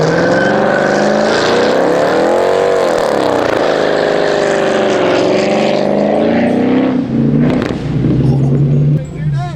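Infiniti G37 with test pipes fitted roars very loudly through its exhaust, revving up and down in a rough, resonant drone with a pop near the end, while a person talks over it.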